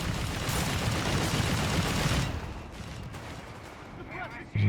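Mortar barrage in the World War II strategy game Company of Heroes 3: a dense, continuous roar of explosions and rumbling fire, loud at first and then easing off, with a faint voice under it.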